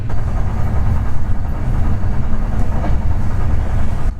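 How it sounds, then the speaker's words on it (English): A loud, steady rumble of a sleeper train rolling along the rails in Sicily, continuous and close, with faint rhythmic clatter and no talking. "you can like listen to the sound of like the train"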